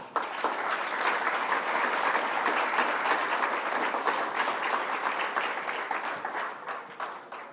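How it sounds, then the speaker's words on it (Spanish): A church congregation breaks into sustained, dense applause, a steady wash of many hands clapping together that holds loud throughout and thins slightly toward the end, with no talk over it. "Denle un aplauso a Cristo."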